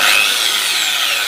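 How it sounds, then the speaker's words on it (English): Power drill boring into the end of a Triumph Tiger 800 motorcycle exhaust silencer, a loud, close, high-pitched grinding whine that holds steady throughout. "and drill away."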